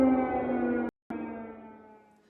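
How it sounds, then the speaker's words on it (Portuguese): An air raid siren sounds at night in Ukraine, a steady droning wail heard from a distance, briefly cut off, then resuming and slowly fading out. "Agora à noite, a sirene voltou a soar."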